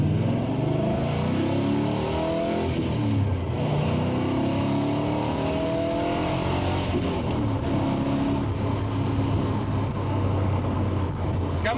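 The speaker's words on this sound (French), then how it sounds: "Le bon vieux V8 américain, il est tout là!" An American V8 car engine fitted with two non-original carburetors drones and revs under acceleration, a loud, deep, continuous rumble with rising and falling pitch sweeps heard from inside the car.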